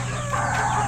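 Chicken at a Filipino gamefowl farm calling out, a short crow-like vocal rising over a constant background hum, close and fairly loud, no talk.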